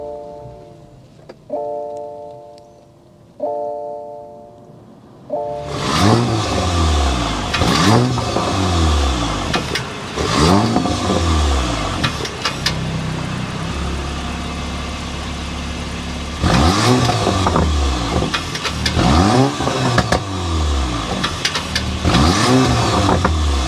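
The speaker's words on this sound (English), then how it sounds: "start it up so you can hear that exhaust note." A 2024 Porsche Macan T turbo four-cylinder SUV engine starts and then revs repeatedly, the throaty exhaust rising and falling in loud bursts, with steady idling between revs.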